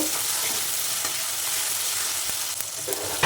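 Green chili, tomato, turmeric and ginger paste frying in hot oil, a loud steady crackling sizzle with a few sharp spoon taps near the end, close by and with no speech.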